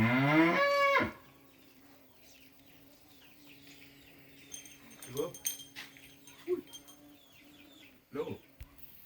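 A cow moos loudly and close at the start, followed by quieter, scattered farmyard sounds and a few short distant calls.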